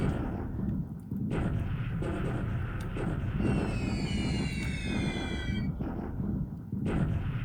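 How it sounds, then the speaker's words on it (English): Artillery bombardment in the War in the Pacific strategy game: a dense, continuous rumble of booming blasts, with high whistling streaks of incoming shells sweeping across the middle stretch, loud and sustained with no talking. "Here is now this Chinese bombardment coming."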